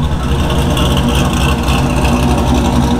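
A Honda with an LS1 V8 engine swap idles loudly and close by, a deep, continuous, slightly lumpy rumble that stays even throughout with no speech.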